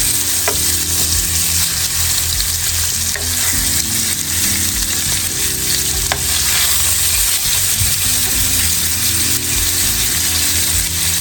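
Short ribs sear in a hot pan with a loud, steady sizzle and crackle that runs unbroken from start to finish, close by and with no talking.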